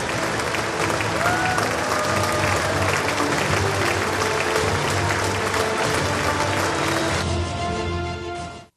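Sustained, dense applause fills the US Congress chamber during Prime Minister Modi's address, a large audience clapping steadily and loudly throughout before fading away at the very end.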